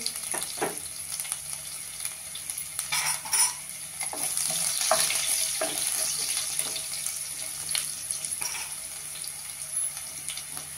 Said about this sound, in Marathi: लसूण बारीक चिरून घेतलेला आहे तो घालते त्याच्यावर.